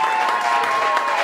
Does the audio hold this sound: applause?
yes